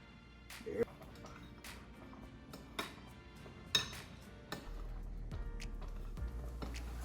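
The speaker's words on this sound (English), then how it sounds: "I'm stirring it at intervals here to keep it from sticking." A spoon scraping and clinking against a pot while cinnamon raisin oats boil on the stove, a few separate metallic knocks spaced over several seconds, quiet and close.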